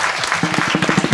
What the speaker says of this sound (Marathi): टाळ्या टाळ्या वाजल्या पाहिजे